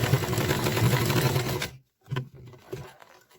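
A sewing machine stitches patchwork fabric in a steady, rapid whir for about a second and a half, stops abruptly, then gives a few short, brief bursts of stitching.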